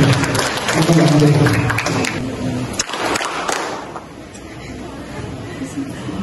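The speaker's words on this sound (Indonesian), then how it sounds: "Tepuk tangan untuk kelompok kedua dulu" Applause for the second group at a leadership training session, dense and fairly loud for about three seconds, then thinning and fading, with voices talking over it.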